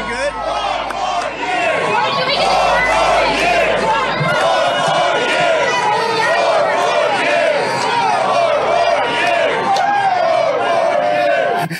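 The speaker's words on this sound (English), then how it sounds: "they wouldn't stop cheering 4 more years" A large crowd at an outdoor Trump rally in Harlem near a bodega chants "four more years" loudly and continuously, a dense roar of many voices with rhythmic shouting that carries on throughout.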